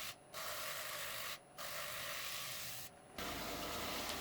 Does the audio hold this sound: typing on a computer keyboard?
no